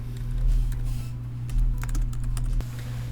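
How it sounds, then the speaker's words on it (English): Rapid keystrokes on a computer keyboard as a property address is entered, a close, steady burst of clicking with a few brief pauses and no talking. "type in the subject property address"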